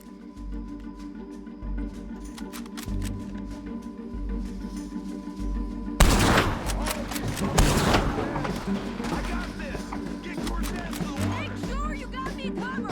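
Gunfire in the video game Red Dead Redemption 2 erupts as a cluster of loud booming shots midway, set against a rumbling in-game background with character voices talking before and after.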